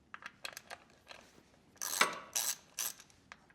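A T27 Torx bit loosens the primary inspection cover on a 2005 Harley-Davidson Softail Springer, giving quiet, uneven ratcheting clicks and scraping bursts, with a louder cluster of clicks near the end.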